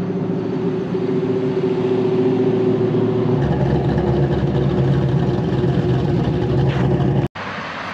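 A tuned Pontiac GTO's engine rumbles and grows louder as the car approaches a dyno shop, a steady low drone that ends abruptly.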